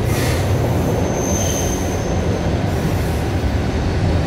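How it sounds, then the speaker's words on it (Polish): An SKM commuter train runs close by, a loud continuous rumble of wheels on rails with a thin metallic squeal, no voices. "SKM, taki prawie pociąg."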